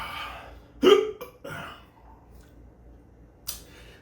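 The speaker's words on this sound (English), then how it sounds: "I got the hiccups because it's kind of stuck here." Hiccups from a person who has just eaten a Chocolate Bhutlah Scorpion hot pepper, two or three short, sharp gulping catches close up, spaced unevenly among quiet breathing.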